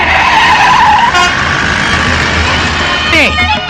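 A lorry brakes and skids amid loud, continuous engine and road noise, with a sharp squealing sweep near the end; voices are heard in the scene.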